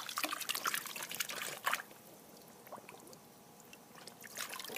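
A dog paws and digs in water around a lawn sprinkler, making irregular splashing and trickling bursts that come in clusters and then quiet down.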